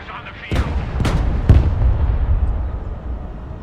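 An M1 Abrams tank fires its main gun in the real-time strategy game Broken Arrow, three heavy booming shots about half a second apart, each followed by a rumbling tail.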